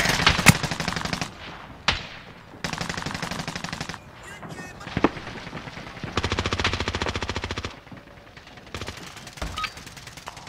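Machine gun fire from a video game, long rapid automatic bursts broken by short gaps and single loud shots, close and loud, with no voices.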